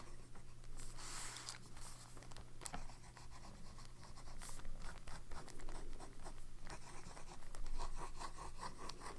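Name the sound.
fountain pen with broad nib writing on paper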